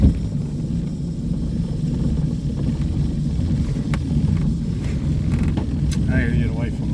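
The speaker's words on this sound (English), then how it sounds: "We're sitting here at fast idle because it ain't warmed up yet" A boat engine runs at fast idle while still cold, giving a steady, loud low rumble with wind buffeting the microphone and someone talking over it.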